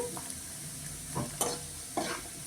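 Onions frying in a pan until golden, a steady close sizzle with a few soft stirring scrapes and clatters rising out of it, no voices.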